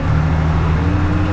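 A motor driving a propeller drones loudly and close by, holding a steady, buzzing hum with no voices over it.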